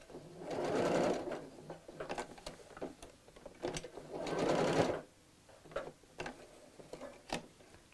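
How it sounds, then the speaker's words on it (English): A sewing machine stitches along the edge of a zip pocket bag in two loud bursts of whirring, separated by quieter ticks and clicks as the fabric is adjusted. "So just sew this to the edge within the seam allowance, so quite close to the edge."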